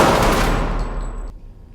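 Gunfire from a movie shooting-training scene, a dense loud burst of rapid shots with ringing decay, cutting off abruptly near the end.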